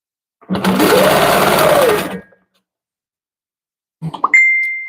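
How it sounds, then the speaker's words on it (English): A sewing machine runs in a steady, loud burst for about two seconds as it stitches along the edge of quilt fabric, then falls silent before a short clatter and a sustained high ring. "I'm going to stitch along the edge here."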